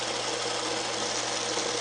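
A sewing machine stitching a chain-pieced quilt block, running as a continuous, close, even mechanical whir and rapid needle chatter throughout, with no voices.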